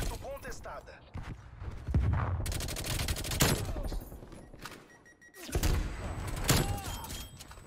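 Suppressed Krieg rifle fire in Call of Duty Cold War on the Halloween Nuketown map, several bursts of muffled rapid shots with thuds in between, under someone talking.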